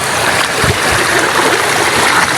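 A strong river current rushes past loudly and close, a continuous broad watery roar with a few low splashes and thumps mixed in.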